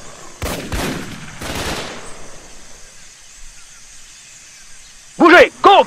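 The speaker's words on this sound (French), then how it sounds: "Il me tire dessus!" Jungle combat in the video game Raven Squad: Operation Hidden Dagger: a couple of loud, close bursts of rapid gunfire crackle early, fading into quiet ambience before two short, sharp sounds near the end.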